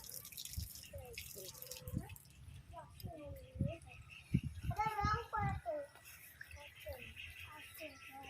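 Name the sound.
water dripping while washing hands at temple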